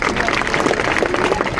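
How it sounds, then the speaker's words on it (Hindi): Dense, loud audience applause fills a retirement ceremony for a schoolteacher in Anupgarh, a steady crowd roar of clapping that holds evenly from start to finish with voices mixed in. "जोरदार तालियां इनके लिए।"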